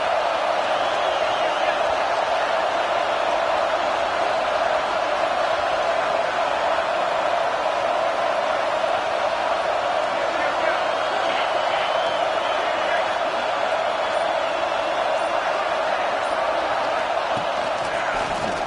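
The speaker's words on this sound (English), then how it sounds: "This crowd bringing the energy and noise early." A steady, dense roar of a large stadium crowd in a Madden football video game fills the whole stretch, loud and unbroken, with no distinct cheers or voices standing out.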